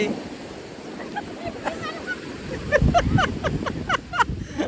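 Sea waves wash onto the beach at Daman, a broad rolling surf with wind rumbling on the microphone, while gulls or birds call in short repeated cries over the water.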